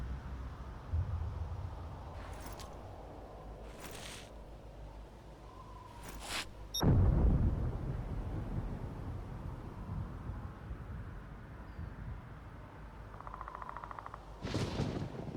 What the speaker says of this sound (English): And here comes the EVR storm.